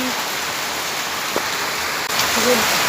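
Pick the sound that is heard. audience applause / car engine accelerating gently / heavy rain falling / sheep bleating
heavy rain falling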